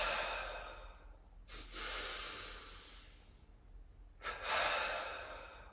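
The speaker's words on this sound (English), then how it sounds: "Exhale from the heart." Deep exhaling breaths during a breathing exercise: two forceful, breathy exhales a few seconds apart, each rising sharply and then slowly fading, heard close and alone.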